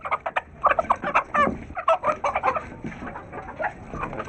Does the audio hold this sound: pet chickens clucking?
yes